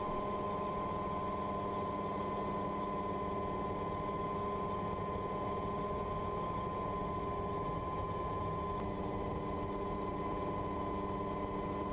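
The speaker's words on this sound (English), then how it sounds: "The sound of the engine fills the air, a reassuring hum that echoes across the water." A Mosquito XE ultralight helicopter engine droning steadily over water, a constant buzzing hum with a fixed tone, moderately distant and unbroken for the whole stretch.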